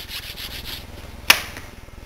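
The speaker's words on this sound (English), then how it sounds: "take increasingly fine grades of sandpaper, go over the body several times, get a smooth finish" Sandpaper rubbed over a wooden electric guitar body in steady, close back-and-forth strokes, a soft even rasp with one brief sharp scrape partway through.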